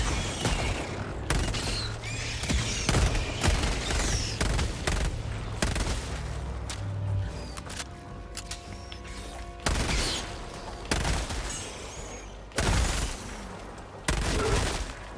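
A sentry turret fires at enemies in Helldivers 2, sharp bursts of gunshots in irregular clusters with brief gaps between them, close and loud, along with some mechanical clanks.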